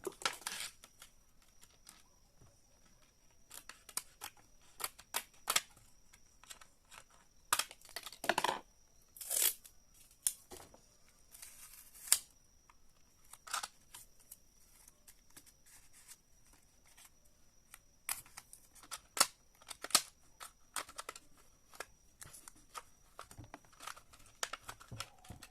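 Fiber being cut and tape wrapped around a salvaged microwave oven transformer, with irregular crinkling, tearing and snipping bursts close up, scattered and intermittent against a quiet background.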